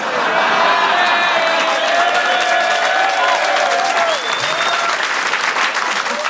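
A stand-up comedy audience breaks into loud, sustained applause, a thick continuous roar of clapping with some cheering and whistle-like tones, dipping briefly before carrying on strongly.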